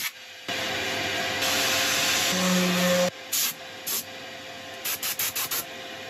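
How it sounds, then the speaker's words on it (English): Abrasive sanding on a figured chestnut bowl spinning on a woodturning lathe, a steady whooshing rub for about three seconds, then short separate bursts of contact. "I'll set up for sanding."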